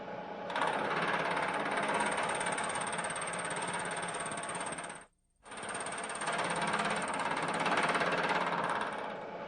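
A knee milling machine taking a cut of about twenty thousandths of an inch off a metal part, a loud, steady chattering grind that runs for several seconds, breaks off briefly, then resumes, with no talking.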